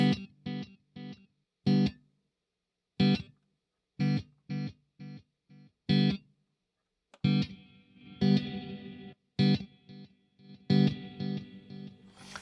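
Electric guitar through a Digitech Genesis multi-effects unit plays short stabbed chords, then sustained notes with echoing delay repeats and a washy reverb tail that fills the gaps.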